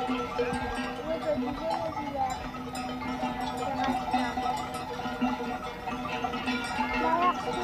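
A flock of sheep bleats on a mountain pasture over a steady outdoor bed, with a cowbell clanking now and then and faint voices mixed in.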